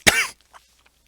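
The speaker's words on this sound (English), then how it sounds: "Oh man, I had to cough there." A single sharp, close cough bursts out loud and brief, followed by a faint breath and near silence.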